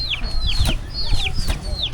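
Chickens in a rural Thai village cluck and give short squawking calls in quick overlapping bursts, close and fairly loud, over faint background murmur.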